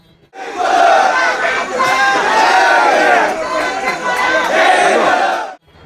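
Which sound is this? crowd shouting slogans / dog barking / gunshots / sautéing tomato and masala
crowd shouting slogans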